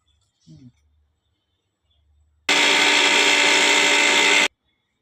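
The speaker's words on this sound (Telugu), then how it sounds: "మిక్సీకి అయితే వేసుకుంటున్నా" A short murmur, then a loud, steady motorized whir runs for about two seconds and cuts off abruptly, like a kitchen mixer grinder.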